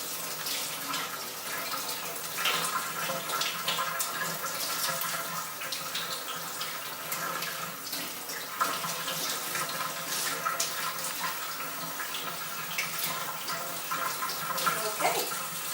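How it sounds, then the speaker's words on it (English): Cold water from a kitchen tap runs steadily over a piece of fish being rinsed in the sink, a continuous close splashing hiss lasting throughout. "cold water. Make sure it's cold. I'm just going to go ahead and rinse this piece of fish off."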